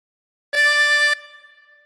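A loud, steady harmonica tone held for just over half a second before trailing off into a faint ring, played solo with no speech.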